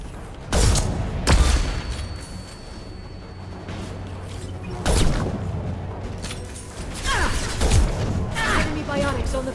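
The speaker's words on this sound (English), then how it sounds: "Watch out! Flashbangs!" Flashbang grenades and gunfire in the Mass Effect 2 video game, heard as several loud, sharp bursts spaced a few seconds apart over a continuous rumbling battle background with crackling debris.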